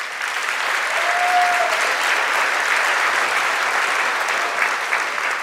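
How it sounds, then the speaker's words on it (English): A community meeting audience applauds PG&E crews during Valley Fire updates, a steady, dense round of clapping that holds evenly for several seconds with no talk over it. "Big round of applause for PG&E."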